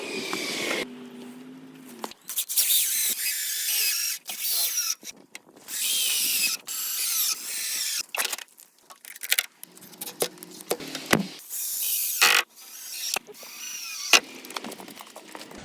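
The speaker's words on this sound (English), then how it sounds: "we're just gonna go a couple screws on this side and then do the same on the other side" Self-tapping screws driven in short bursts by a power drill into the flange of a shower pan, with several loud, separate whirring runs broken by pauses and small clicks and handling noises.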